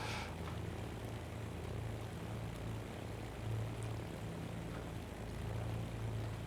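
A Beechcraft Baron BE58 twin propeller engine drones in X-Plane 12 at an airport, a steady low hum with a faint throbbing pulse and no talking.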